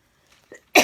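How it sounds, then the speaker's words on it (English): A single sharp cough from a person working on a Mod Podge chalkboard craft, loud and close after a couple of faint breaths. "Sorry to cough in your ear"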